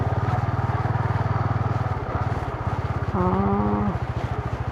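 A Yamaha PG-1 motorcycle engine idles and putters with a steady, fast, low pulsing throb on a river day ride at Nambalan River, close and constant, with a brief higher tonal sound near the end.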